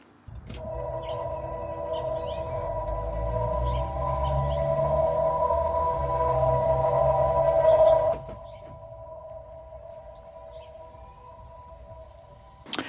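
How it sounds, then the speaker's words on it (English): The pedestrian warning speaker of a 2023 Honda CR-V Hybrid gives a steady electronic hum with a low rumble beneath it, uninsulated, then suddenly drops to a quieter, thinner drone partway through once insulated. "here's the noise of the speaker actually connected with no insulation"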